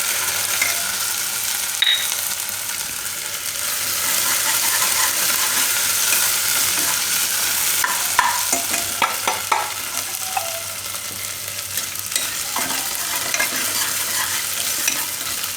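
Asafoetida, ginger, chilies and red curry leaves frying in hot oil in a home kitchen, a steady close sizzle with stirring clinks and scrapes throughout, no talking.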